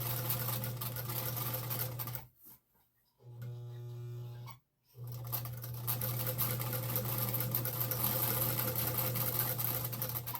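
A 1950s German Pfaff 130 sewing machine running a straight stitch, with a steady motorized hum in two long runs separated by short pauses, heard close and alone.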